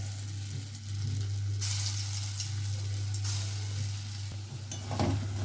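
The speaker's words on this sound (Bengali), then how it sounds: "বড়াগুলো ভাজা হয়ে গেছে এবার এগুলোকে তুলে নেব" Lentil fritters (dal bora) fry in a wok of hot oil with a steady, crackling sizzle, and bursts of stirring and scraping come and go over a constant low hum.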